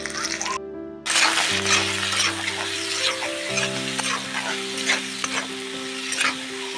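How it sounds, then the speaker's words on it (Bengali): Onion and chili fry in hot oil with nigella seeds tempered in, a loud continuous sizzle with occasional stirring scrapes, a brief cut near the start and a faint tonal hum running underneath. "পেঁয়াজ লঙ্কাটা দিয়ে দিয়েছি কালো জিরা ফোড়ন দিয়ে"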